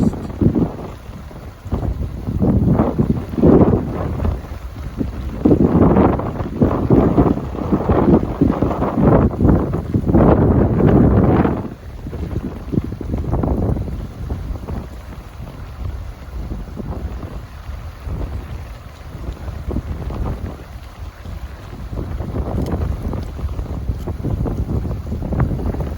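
Strong, chilly wind buffets the microphone beside a river crossing on Iceland's Laugavegur Trail, roaring in loud uneven gusts for several seconds before easing into a steadier, softer rush.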